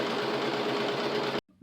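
A sewing machine stitching a cushion or mattress cover for a small camper bus runs in a steady, loud, fast whir, then stops abruptly near the end.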